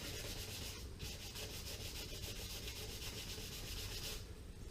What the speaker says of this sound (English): we're now sanding on a painted surface